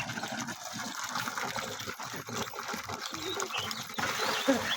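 Water running steadily from an open tap at home, a broad rushing noise with splashing under nearby voices and household sounds throughout.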